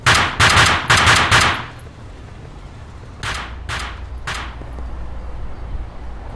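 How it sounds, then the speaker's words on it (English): Video game Cyberia gunfire: a rapid burst of four or five loud shots, then after a pause three more spaced shots ring out over a low rumbling background. "Someone's shooting over there!"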